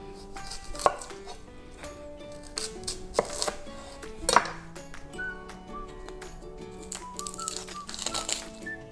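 Knife finely chopping red onion on a cutting board, a close, steady run of crisp taps with a few louder knocks.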